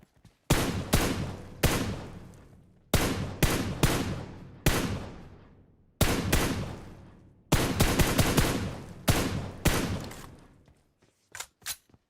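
Bursts of automatic gunfire in the mobile game PUBG Mobile KR, several rapid volleys separated by short pauses, loud and close, with a few faint single shots at the end.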